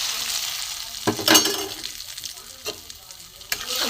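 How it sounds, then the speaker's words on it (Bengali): Ground spices with turmeric, chilli, cumin, coriander and salt sizzle in a hot kadai, a steady frying hiss broken by a few sharp stirring clatters of a spoon against the metal, close and with no talk. "ওর মশলাটা ভেজে নেব।"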